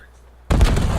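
Frag grenade explosion in a multiplayer shooter, a sudden loud close blast with a heavy low boom and rumbling debris cutting through quiet background.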